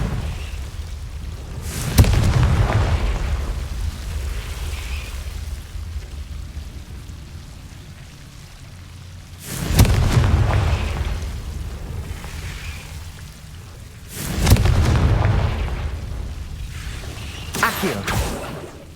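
Confringo spells burst in Hogwarts Legacy during a Keeper trial, with four deep booming blasts, spaced several seconds apart and each rumbling off, over a low, steady ambient bed.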